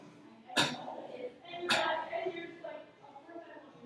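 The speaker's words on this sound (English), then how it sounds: "Another way is just to cough." Two sharp, forceful coughs ring out close up about a second apart, each followed by a short breathy trail and a quieter room echo.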